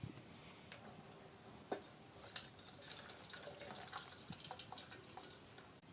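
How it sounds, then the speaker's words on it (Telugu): Faint splashing and trickling water with scattered clinks as water is drained from boiled radish pods through a strainer; quiet and close. "ముల్లంగి బుడ్డల్లో ఉన్నటువంటి వాటర్ని వడగట్టుకుందాం"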